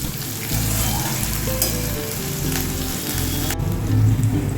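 Bitter gourd (karela) frying in hot oil, a loud continuous crackling sizzle close by, with occasional stirring scrapes and a sharp click near the end.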